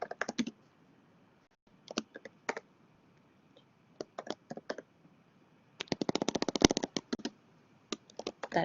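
Bursts of computer keyboard typing as commands are entered, quick clusters of close clicking keystrokes separated by short pauses, with a denser run of rapid key presses in the middle; no talk.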